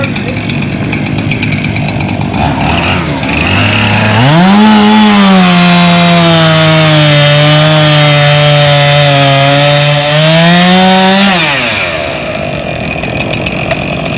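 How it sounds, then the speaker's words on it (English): A nearby chainsaw mounted on a swivel revs up and bites into wood, holding a loud steady drone for several seconds before easing back to idle. "Chainsaw on a swivel."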